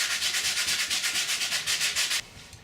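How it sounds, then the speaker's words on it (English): A sanding block with ordinary sandpaper rubbed over wood on a 12-string guitar build, about twenty quick, even back-and-forth rasping strokes close by, then stopping abruptly. "even out any little rough bits left by the spindle sander using a sanding block and a bit of normal sandpaper"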